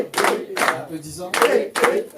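A church congregation at an Easter service claps in slow rhythmic bursts, about four loud beats separated by pauses, with voices murmuring and calling out in between.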